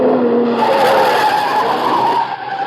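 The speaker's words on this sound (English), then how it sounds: "Car coming down from the house. Yeah, at a good clip, too." A souped-up car speeds down a drive from a house, its tires skidding in a loud, sustained screech close by, with engine noise underneath and no talk.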